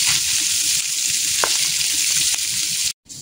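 Minced pork frying in a pan, a steady close hiss of sizzling with faint stirring clicks, continuous throughout before a sudden brief drop to silence near the end.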